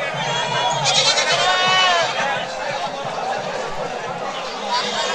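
Several goats of local native breeds bleat, one loudly and nearby, over a dense murmur of voices from a crowded goat market.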